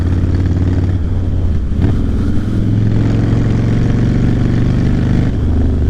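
An older Harley-Davidson Fat Boy with a stock carburetor runs loud and close, its engine rumbling steadily with a slight rise and dip in revs.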